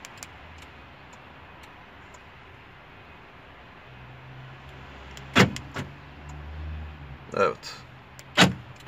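A replacement car central locking motor, temporarily wired up, is tested: a low mechanical hum builds, then several sharp clunks of the lock actuator follow close by, with a brief spoken word early on.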